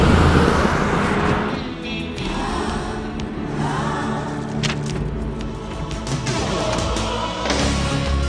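Car driving, a loud engine and road rumble that stays steady throughout, with scattered clicks and thuds over the top.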